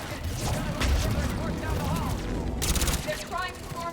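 Rapid turret gunfire in the sci-fi shooter Mass Effect 3, dense overlapping bursts of shots with game effects, loud and continuous, with speech over the top.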